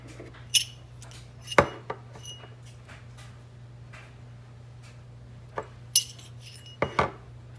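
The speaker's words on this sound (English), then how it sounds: "now we're gonna take and we're gonna put a little toothpick in each one, just so we can dip it in our caramel sauce." Toothpicks are pushed into washed grapes for a caramel-dipped snack, giving sparse, light clicks and clinks in small clusters against a quiet kitchen background, with no talking.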